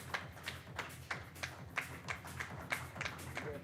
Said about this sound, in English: I request the audience, the clients and the fellow colleagues to kindly please clap for them